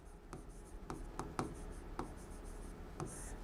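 A pen or marker scratches out the word cranium on a board or paper in a biology lesson, with quiet separate strokes in an irregular rhythm and no talking.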